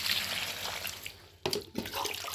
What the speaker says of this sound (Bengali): এই বালতিতে জল আছে, মাটিটাকে জল দিয়ে ভেজাবো